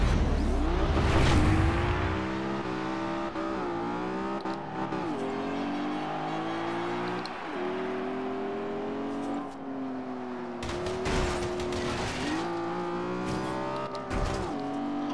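BMW racing car in Forza Horizon 2, its engine loud and close, revving up and down through repeated gear shifts with occasional tire squeal and impacts.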